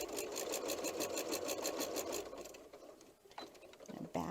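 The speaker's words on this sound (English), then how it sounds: "I'm going to go ahead and do another line of stitching" A sewing machine stitching curved lines on a paper-pieced heart quilt pillow, a fast rhythmic mechanical whirr close by for about two seconds, then slowing and stopping with a few clicks.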